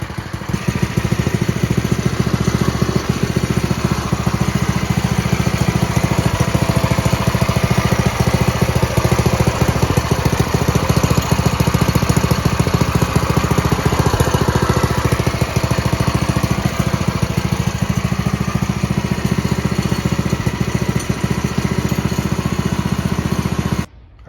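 A Predator 212 go-kart engine idles steadily during break-in on a vintage flat-track go-kart, a loud, constant, buzzy small-engine drone with an unbroken rhythm throughout.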